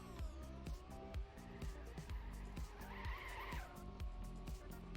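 A car in a racing video game drifts, its tires squealing in a long skid over a pulsing engine drone, quiet and steady, with a brief louder squeal in the middle.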